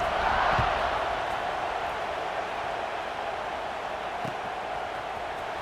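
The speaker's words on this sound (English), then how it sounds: "this crowd is buzzing after that last score" A crowd buzzes in an AI-run football video game, a steady, dense murmur that holds at an even level throughout, with no voices standing out.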